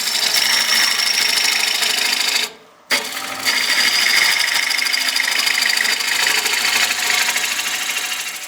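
A bowl gouge rasps steadily against spinning wood on a turning lathe, a loud close scraping hiss that briefly drops out as the cut eases, then resumes.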